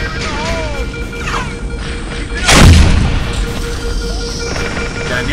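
A grenade blast and gunfire in the video game Halo SPV3 resound as one loud, heavy boom near the middle, surrounded by game effects and a background hum.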